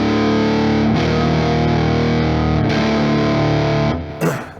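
Heavily distorted electric guitar riff in Phrygian mode, drop D tuning, thick sustained chugging chords with a few brief breaks, loud and close, then a short scrape at the end, with no voices.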